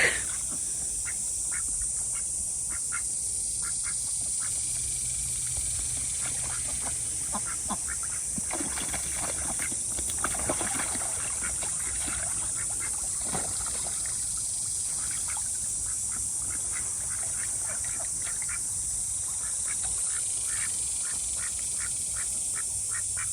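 Ducks quack repeatedly at a backyard duck pond during cleaning, bursts of raspy calls coming in clusters over a steady high hiss and trickling water, moderately close and loud.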